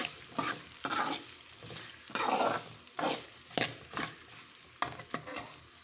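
Tempering seeds and chopped onions fry in a pan for a crispy bitter gourd fry, a close sizzle broken by regular scraping strokes as a spoon stirs them, roughly once every half second.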